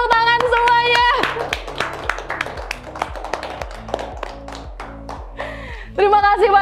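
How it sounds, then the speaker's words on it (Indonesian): An audience applauds with brisk, rhythmic clapping at an indoor gathering, a steady patter of many hands mixed with background music and bright tones. "Boleh tepuk tangan semuanya."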